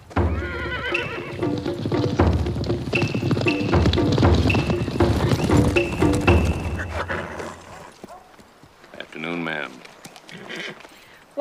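A horse neighs and whinnies amid hoofbeats and voices in the 2002 film The Outsider, with a loud, busy stretch followed by a clear whinny near the end.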